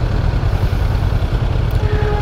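A Honda CB500X motorcycle engine rumbles steadily while riding through city streets, a loud, continuous low drone with wind noise and no break.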